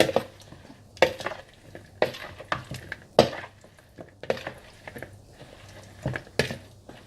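Beef strips tossed into a Thai beef salad dressing, heard as a series of sharp clinks and scrapes of utensils against a bowl, recurring in irregular bursts about once a second, close and fairly quiet.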